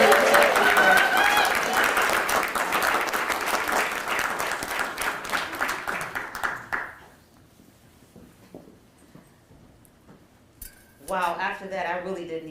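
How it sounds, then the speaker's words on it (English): Warm audience applause at a college celebration honoring Dr. Martin Luther King Jr., loud sustained clapping that fades out over about seven seconds before a speaker begins talking at the podium. "give a warm, warm, warm round of applause for our chair, Angela Matthews, as she comes forward to talk to you."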